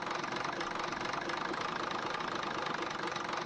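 A tractor engine in Farming Simulator 19 idles with the throttle pulled back, giving a steady, continuous rumble at even loudness throughout, with no talking.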